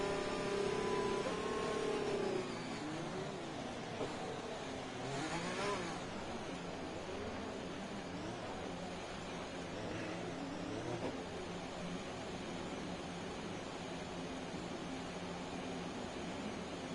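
F1 race cars on the formation lap in F1 2020, the Italy round: a steady engine drone with engine notes sweeping up and down, constant and moderately loud with no talk.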